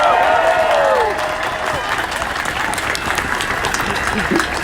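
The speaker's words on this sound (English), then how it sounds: "Everybody, give up a round of applause for Jack." Crowd applause at a Stop Asian Hate rally, with a voice over the start, then steady clapping and some cheering that continues at a fairly loud, even level.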